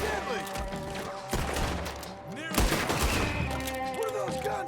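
Enemy gunfire in Red Dead Redemption 2, a dense fusillade of overlapping rifle and pistol shots with sharp cracks and ricochets, loud and continuous throughout, with a brief lull midway before another heavy volley.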